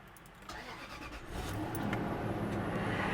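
A car with over 200,000 miles starts up at a public auto auction, a short crank catching into a steady idle that grows louder and holds, with a faint belt squeak in the mix.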